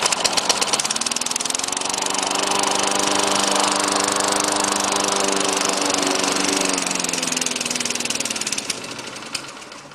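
A Lawnboy 10260 lawn mower engine starts and runs loud and steady for several seconds, with rising then falling tone as it labors, then sputters toward the end, with no talking.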